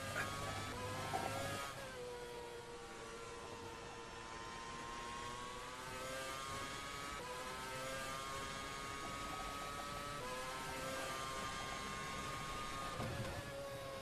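A Formula One car from a 2013 season mod in the rFactor 2 racing simulator, its engine whining high and steady, with rising and shifting tones at upshifts across a continuous run.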